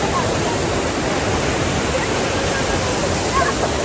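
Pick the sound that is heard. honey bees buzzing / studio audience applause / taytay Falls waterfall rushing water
taytay Falls waterfall rushing water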